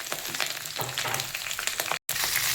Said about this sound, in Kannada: ಅದಕ್ಕೆ ಸ್ವಲ್ಪ ಹುಣಸೆಹಣ್ಣು, ಸ್ವಲ್ಪ ಕರಿಬೇವಿನ ಸೊಪ್ಪು ಹಾಕ್ಕೊಂಡು ಫ್ರೈ ಮಾಡೋದು